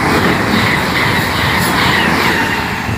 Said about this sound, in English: fast train.